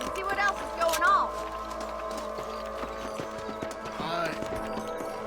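Horse hooves clip-clopping at a run in the Western video game Red Dead Redemption, a steady rhythm of hoofbeats under game music and ambience, with a brief spoken word and occasional whinnying.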